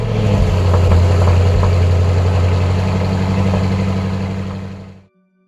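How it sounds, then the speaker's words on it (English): A BMW S1000RR superbike engine idles loud and close with a steady low rumble and no revving, then cuts off abruptly near the end, leaving a brief faint tone. "The BMW S1000RR has one of the most advanced motorcycle engines ever made."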